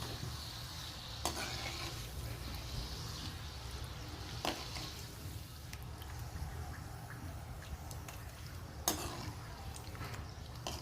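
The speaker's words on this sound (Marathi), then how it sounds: "पुऱ्या तुम्हाला छान अशा खरपूस तळून घ्यायच्या आहेत" Puris deep-frying in medium-hot oil for a Navratri jaggery kadakani recipe, a low steady bubbling hiss with occasional sharper clatters from stirring, continuous and close, with no talk.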